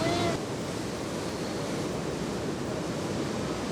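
Ocean surf rolls in steadily at Huntington Beach Pier on a contest finals day, a broad continuous wash of breaking waves with wind noise, loud and unbroken throughout.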